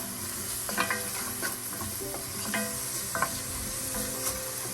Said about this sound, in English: we're going to saute this for about a few minutes on this heat